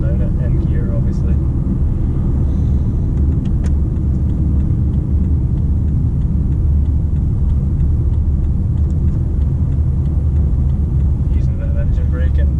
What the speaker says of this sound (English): Using a bit of engine braking and around the corner.